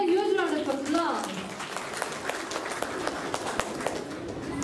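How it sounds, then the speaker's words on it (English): Audience applause after a school performance in Bangalore rises beneath a voice that speaks at the start, then continues as steady, moderately loud clapping. "Give them another huge round of applause."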